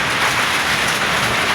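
Heavy storm rain pours down outside a shop where people shelter, a dense, loud, continuous hiss with no voices over it.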